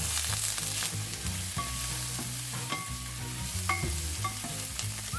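Mussels frying in a pan with onion, ginger and chili, a loud continuous sizzle with repeated scraping and clattering of a spoon as the mix is stirred, close and without speech.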